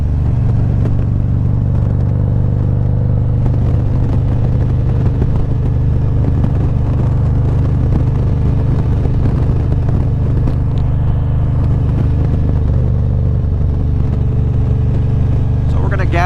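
A 2020 Harley-Davidson Street Glide CVO motorcycle idles nearby with a loud, continuous low rumble and throb, its steady engine note filling the whole stretch with slight fluctuations.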